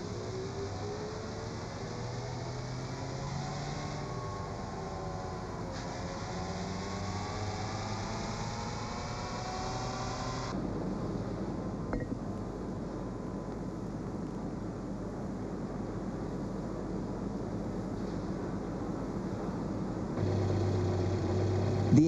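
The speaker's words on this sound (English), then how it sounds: "On the rolling road, the car is checked under simulated conditions." A VW Golf MK2 running on a rolling road test stand on a production line, a steady droning engine with shifting tone and a constant mechanical hum throughout.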